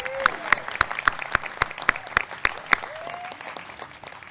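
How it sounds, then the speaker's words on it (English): Convention attendees clap for a speaker with sharp, evenly spaced individual claps rather than a full crowd roar, each hit distinct and close, with a brief voice heard in between. "Everybody wants to give a round of applause for Dr."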